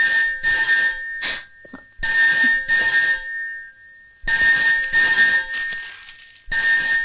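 Telephone bell ringing in a Malayalam film scene, loud repeated double bursts of electronic ringing with short pauses between them, heard alone without talk.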